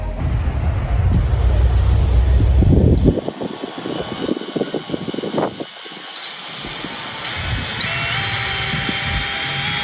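A power drill whines in short bursts while drilling holes for plumbing, its pitch rising and falling as it bites into material, followed by a steadier mechanical hum.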